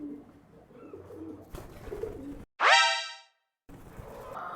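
A pet pigeon gives low, soft coos close by over a quiet indoor background, and a short, bright tonal sound cuts in partway through.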